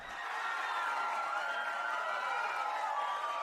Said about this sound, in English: But we'll give you a round of applause.